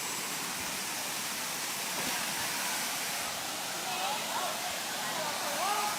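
Water pours steadily down the second tier of Mae Khamin waterfall in Kanchanaburi, Thailand, making a dense, continuous rush that stays even and fairly close throughout.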